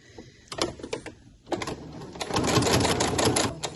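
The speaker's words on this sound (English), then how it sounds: "I'm going to stitch with about 1/8 of an inch seam allowance, so just work out the best guide on your sewing machine." A domestic sewing machine stitches a sleeve seam with a narrow allowance: a few short bursts of needle chatter, then a longer steady whirring run, close up with no talk.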